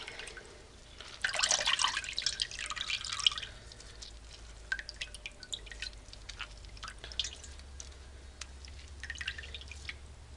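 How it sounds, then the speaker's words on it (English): Buttermilk drips and trickles from freshly made homemade butter as it is squeezed by hand, a brief wet gush followed by scattered soft drips, quiet and close. "we're going to squeeze it to get all that buttermilk out"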